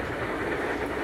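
The Microspace train, a steam locomotive, rolls along continuously, giving a steady, fairly faint rushing rumble with a soft rhythmic clatter and no voices.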